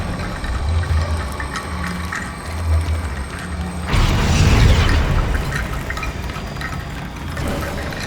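A Confringo fire spell cast in Hogwarts Legacy bursts as a loud, broadband explosive boom, followed by a sustained rumbling, crackling decay over ambient game background, with no talk.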